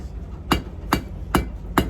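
Hot steel hammered on an anvil to draw a taper, four evenly spaced ringing hammer blows about half a second apart, close and moderately loud.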